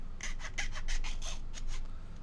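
A series of high, rubbing squeaks in quick bursts, about nine strokes over two seconds, close and fairly loud with a raspy edge.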